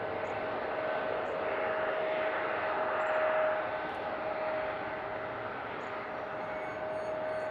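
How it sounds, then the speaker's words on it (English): Airliner taking off at Seattle-Tacoma airport, a steady broad engine roar holding at moderate distance throughout with a thin constant tone running underneath, no voices. "I'm pretty sure this is taking off going to Miami."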